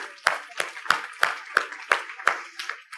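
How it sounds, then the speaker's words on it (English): A few people clap at a conference for several seconds. Seven or eight sharp claps fall at an even beat, each loud and distinct, with no crowd roar behind them. "So a round of applause for everybody."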